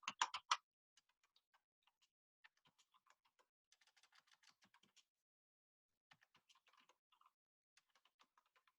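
Soft, sparse typing on a computer keyboard, with a brief louder burst of keystrokes at the start followed by scattered light taps in irregular clusters, faint and close in an otherwise quiet room.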